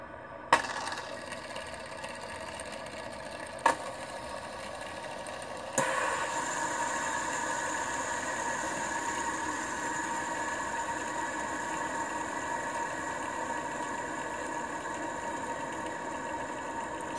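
An aluminium and brass gear fidget spinner with nine gears whirs steadily after a few sharp clicks as it is flicked into motion, its faint metallic hum continuing evenly and unaccompanied.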